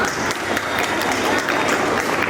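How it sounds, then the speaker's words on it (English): An audience at a Republic Day program gives a big round of applause, a thick, continuous crowd clapping that holds at steady volume for the whole stretch. "Please give him a big round of applause."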